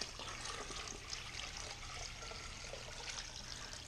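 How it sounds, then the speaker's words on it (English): Quiet, continuous rush of water being pumped into a bucket, splashing and trickling steadily throughout with a low hum underneath. "let's start off by pumping some more water"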